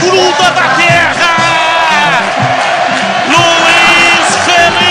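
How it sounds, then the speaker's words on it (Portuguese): Ponte Preta football fans fill a stadium with loud, continuous crowd roar, whoops and chanting voices throughout, with no clear pauses. "O alarido que contagia."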